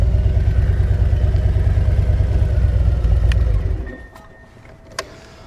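Harley-Davidson Road Glide engine rumbling at low speed through slow figure-eight riding, a loud, steady, close throb for nearly four seconds that then drops away to near quiet with a couple of faint clicks.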